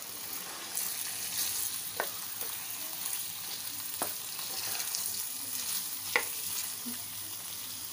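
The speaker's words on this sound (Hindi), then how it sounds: "और चिकन थोड़ा सा गोल्डन फ्राई करनी है मुझे" Six hundred grams of chicken pieces frying to a golden colour in a pan, a steady loud sizzle with a few sharp clicks of stirring, no voices over it.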